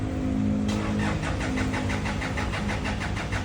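A car engine cranks repeatedly with a fast rhythmic chugging from the starter but never catches, the pulses continuing without pause and fairly close.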